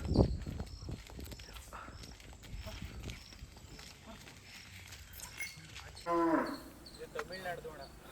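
Hallikar heifers give a few low moos close by on a farm, mixed with hoof steps and shuffling, and a voice briefly cuts in near the end.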